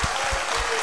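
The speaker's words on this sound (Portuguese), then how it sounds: "Uma salva de palmas para Jesus." Congregation in an Assembleia de Deus church breaks into a brief, dense burst of hand clapping, loud and close, with no talking over it.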